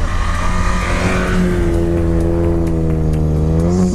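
A loud, close car with a straight-pipe exhaust idles with a deep, raspy exhaust rumble, then blips its revs briefly near the end.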